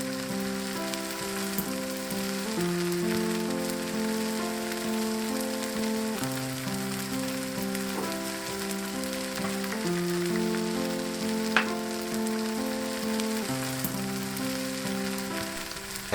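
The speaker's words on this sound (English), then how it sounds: "add the Spam. Let the Spam get browned a bit." Spam browns in a frying pan with a soft, steady sizzle that continues throughout, faint beneath a gentle melodic tune; no one speaks.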